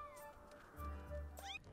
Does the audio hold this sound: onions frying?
no